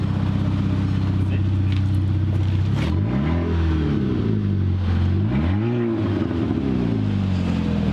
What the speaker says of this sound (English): Why don't you rev it up?